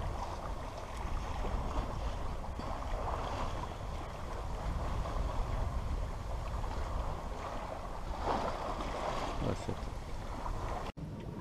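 A sailboat runs under a poled-out genoa in light wind, about 5 knots, making 3 knots along the Mediterranean coast between Cap d'Agde and Saintes-Maries. A steady wash of wind and water continues throughout, with a brief knock near the end.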